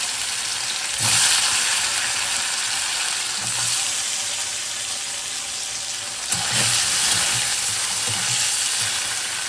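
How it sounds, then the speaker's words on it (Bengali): Broccoli and paneer fry in a pan with a steady, loud hiss of sizzling oil, broken by occasional stirring scrapes and soft clatters, close up and without talking. "ব্রকলিটা এখানে ভাজা করছি"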